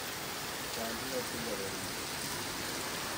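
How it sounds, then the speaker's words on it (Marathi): Heavy unseasonal April rain pouring near Malvan, a dense, steady broadband hiss of drops on surfaces that stays constant and loud for the whole few seconds, with no distinct individual impacts. "बघू शकता जाम पाऊस पडतोय, म्हणजे जामच जोरात पडतोय."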